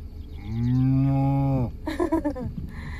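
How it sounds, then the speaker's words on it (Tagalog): A cow on a farm lets out one long, loud, close moo, then a second shorter, wavering moo follows after a brief pause, with no talking. "So ayan po yung mga cows."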